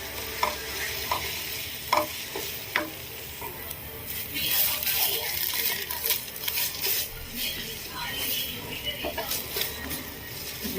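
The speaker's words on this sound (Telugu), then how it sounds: "ఇది మొత్తం ఆయిల్ సెపరేట్ అయ్యేంత వరకు కూడా ఫ్రై చేసుకోవాలి" Masala for bitter gourd fries in oil in a pan, a close sizzle with frequent clinks and scrapes of a spatula stirring, growing busier and louder midway.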